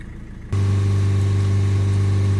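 A Chevrolet Cruze 1.7 diesel engine idles with the bonnet open, after a chemical cleaning of its blocked diesel particulate filter. A loud, steady low hum with a constant drone starts after about half a second and runs unbroken to the end.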